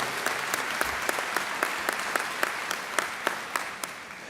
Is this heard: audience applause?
yes